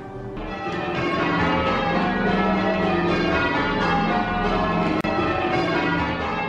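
Church tower bells ring in a change-ringing sequence in an American bell tower, a continuous overlapping peal of struck tones sounding loud and steady, with no voices over it.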